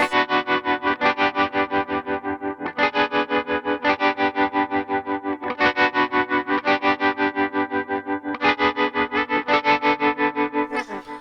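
Electric guitar chords through a Line 6 Helix LT pulsing with a fast, even tremolo throb, the volume rising and falling rhythmically throughout, with no voices.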